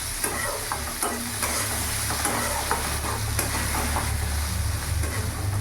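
Two onions sizzle and fry in hot oil over a raised gas flame for a chicken masala fry, giving a steady close crackle with occasional stirring scrapes.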